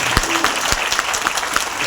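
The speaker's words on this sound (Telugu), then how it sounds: "ఏడిఎంఎస్ యజమాన్యానికి ఓసారి గట్టిగా క్లాప్స్ ఇద్దాం సార్" An audience claps together for the ADMS management at an event, a dense, steady round of applause with sharp individual claps standing out.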